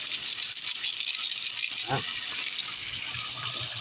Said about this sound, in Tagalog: Lagyan natin konting tubig mga idol, no?